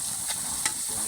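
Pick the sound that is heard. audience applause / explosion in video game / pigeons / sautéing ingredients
sautéing ingredients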